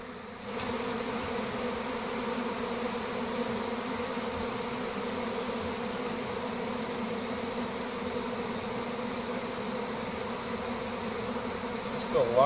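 Honeybee swarm arriving and fanning at a gathering spot outdoors, a dense, continuous, close buzzing drone that holds steady and loud throughout.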